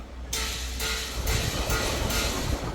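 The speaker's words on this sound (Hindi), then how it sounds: "और जनरेटर स्टार्ट हो चुका है" A Kirloskar 25 kVA open diesel generator starts from its control panel, a loud broadband roar kicking in abruptly and continuing with a steady low engine rumble and repeated rhythmic surges, heard close with no talking.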